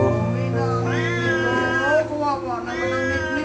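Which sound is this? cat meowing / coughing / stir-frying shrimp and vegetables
cat meowing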